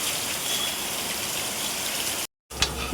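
Heavy monsoon rain falling outside a house during flooding, a constant dense hiss of downpour that cuts out briefly near the end before returning with a nearby splash or knock.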